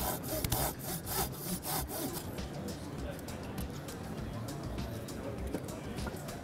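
A chainsaw or handsaw cuts a hinge into a standing tree during rigging work, giving steady rasping strokes that are loud at first and then settle into continuous sawing, with faint birdsong in the background.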